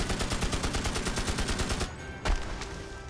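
Rapid bursts of gunfire in the video game Magicka rattle steadily for about two seconds, then stop, followed by one sharp, louder single shot with no talking.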